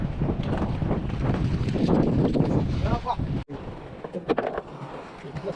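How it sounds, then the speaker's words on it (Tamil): Wind buffets across a fishing boat out at sea, a loud, rough rumble that roars against the microphone, cuts out abruptly for a moment, then returns in gusts. "இந்த சைடு காத்து மழை வந்துட்டு இருக்கு."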